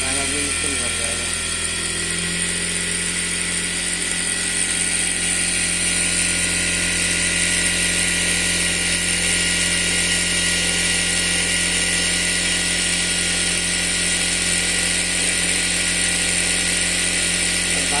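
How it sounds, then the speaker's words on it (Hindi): A sewing machine runs steadily while winding thread onto its bobbin, a continuous even mechanical whir and hum holding at one level for the whole stretch. "मशीन चालू होते ही हम धागा भरना चालू हो जाएगा।"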